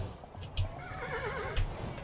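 A horse in the video game Kingdom whinnies with a wavering, rising-and-falling call over a low background rumble, with a couple of dull thumps around it.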